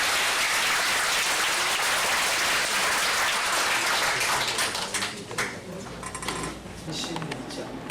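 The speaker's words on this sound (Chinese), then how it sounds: "我们是不是给我们一个最热烈的掌声" Audience applause fills a hall at a talk, dense steady clapping that stays loud for about five seconds before thinning out into scattered claps.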